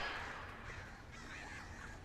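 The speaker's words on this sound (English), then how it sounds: "Oh, birds. Birds." Crows cawing in the video game Alan Wake along a forest trail: a few harsh caws, faint and somewhat distant, over a quiet ambient background, with no voices.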